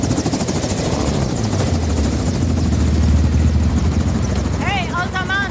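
Steady low helicopter rotor drone in Call of Duty: Modern Warfare II running throughout under game sound effects, with people talking over it and brief chirpy tones near the end.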